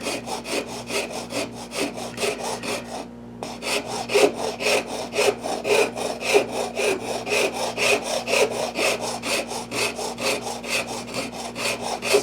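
A wood rasp files a pinewood derby car in steady, rapid back-and-forth strokes, close and continuous with one brief pause, a rough scraping rhythm over faint background hum.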